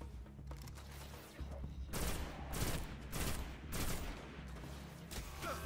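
Fusion rifle fire in the sci-fi shooter Destiny: several loud, broad charged bursts in a rapid run after a quieter start, set over a steady low game hum.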